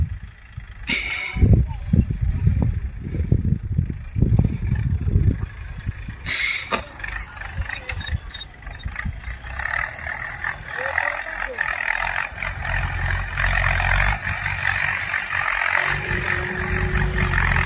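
A Mahindra 585 DI Sarpanch tractor engine runs at a distance, a steady rumbling drone with some rattle that holds under a voice speaking at the start and then carries on alone.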